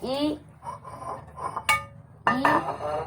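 Plates and spoons clink and clatter during dishwashing, several bright ringing knocks scattered over a few seconds while a person talks.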